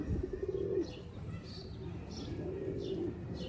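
A Sialkoti pigeon, the male of a breeder pair, gives soft, low, repeated coos at a moderate distance, with a few brighter chirping notes in between.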